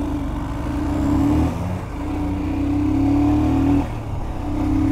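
A Scram 411 motorcycle and a 1992 Bajaj Chetak scooter pulling away together in a first-gear drag race, a loud, close engine drone rising in pitch in repeated surges as the gears climb, with no talking.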